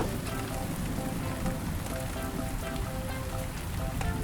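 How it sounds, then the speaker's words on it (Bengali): Steady rain pours down and patters on surfaces, a dense continuous wash of drops heard close and fairly loud, with no one speaking. "আর ওইদিকে বৃষ্টি শুরু হইয়া গেল"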